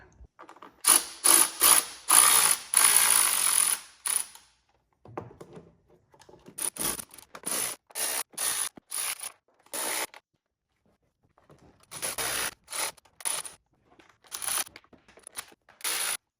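Hand ratchet clicking in repeated bursts while snugging down the valve cover bolts on a BMW E46 during a valve cover gasket replacement, the bursts close and crisp with short pauses between them.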